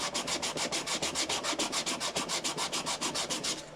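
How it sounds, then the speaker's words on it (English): Rapid, rhythmic back-and-forth scratching of sandpaper on wood end grain, about six strokes per second, close and steady throughout. "when you're sanding end grain, you don't have to pay attention to the grain direction"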